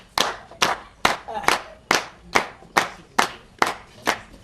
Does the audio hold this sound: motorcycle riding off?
no